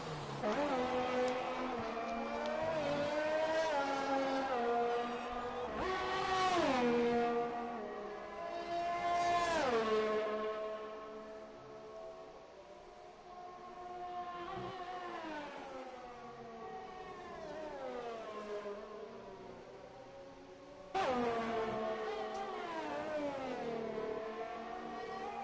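A Mercedes Formula 1 car in the racing game F1 2020 screams through a lap in France, its engine note climbing and dropping steadily through gear changes, loud and continuous with no voices.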